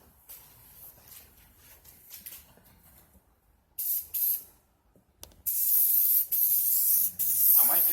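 Spray can laying a thin coat of paint over a stencil on a Robotron cabinet: several short hissing bursts, then longer loud sustained sprays near the end, close by.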